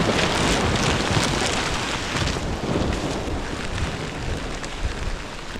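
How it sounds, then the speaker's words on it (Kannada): Heavy rain pours down on a plantation, a dense, steady hiss that fills the whole clip without a break and with no voices. "ನೋಡಿ ನಾನು ಬಂದ ಸಿಕ್ಕಾಬಟ್ಟೆ ಮಳೆ ಆಗಿಂದ"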